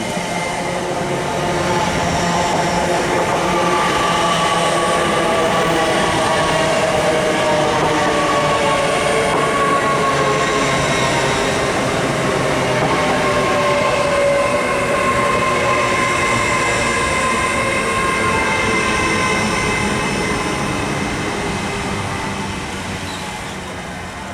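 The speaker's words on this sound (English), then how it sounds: "LNER service to London King's Cross from Leeds." LNER passenger service between Leeds and London King's Cross passing through Grantham station on the East Coast Main Line, a loud sustained roar of wheels and rolling stock with faint rail squeal, swelling in and fading out, no voices.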